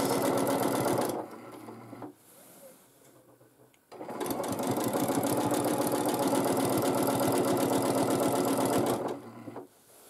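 A sewing machine runs in long, steady bursts during free motion quilting, loud and close, stopping briefly and then starting again for a long continuous stretch.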